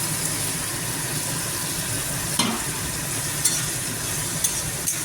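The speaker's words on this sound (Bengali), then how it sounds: "দিয়ে ভালো করে কষিয়ে নেব" Masala paste sizzles steadily in a pot while being stirred for shapla curry, a constant broadband hiss with a few soft scraping clicks of the spoon against the metal.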